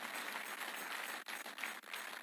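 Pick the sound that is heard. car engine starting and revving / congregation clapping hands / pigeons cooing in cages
congregation clapping hands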